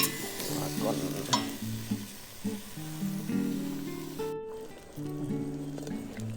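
Ingredients for a Thai jin curry are stir-fried in a hot pan, with close sizzling and the scrape and clatter of a utensil stirring in uneven bursts.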